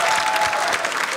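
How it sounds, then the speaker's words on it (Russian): Dense applause from a crowd at a PvP arena fight show, steady and loud throughout with rippling individual claps. "На ПВП-арене аплодисменты!"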